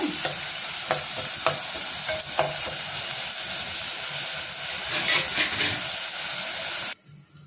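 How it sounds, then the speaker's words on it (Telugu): Salted onions fry in a pan and are stirred, giving a loud, steady sizzle with scattered spoon scrapes and clinks, until the sound cuts off abruptly near the end. "మధ్య మధ్య నుండి ఉల్లిపాయలు బాగా వేగేదాకా కలుపుకుంటూ ఉండాలండి, మాడకుండా."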